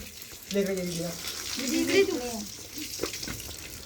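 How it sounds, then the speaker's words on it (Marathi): Running water as people wash their hands and feet at an outdoor washing spot on a trip to Ratnagiri, with steady splashing under voices talking nearby. "आता आम्ही पण धुतोय हातपाय."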